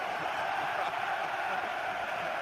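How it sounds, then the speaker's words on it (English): A football stadium crowd at a Manchester United versus Arsenal Premier League match cheers steadily, a broad, sustained roar at a moderate distance with no clear peaks. "He's getting a great cheer, Louis van Gaal."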